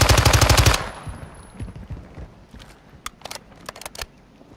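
Video game gunfire opens with a loud, rapid burst of shots, then sparse, fainter pops and clicky game effects follow over the next few seconds.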